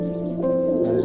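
A red and black Lotan breeding pair coos at a fancy pigeon farm in Maslandapur, giving a short, low, throaty coo that is close and clear, with no talk over it.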